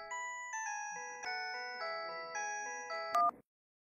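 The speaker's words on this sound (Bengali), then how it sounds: "ও এই সময় আবার কার ফোন?" An electronic phone ringtone plays a bright, stepped melody of repeating tones for about three seconds, then cuts off abruptly, with no voices over it.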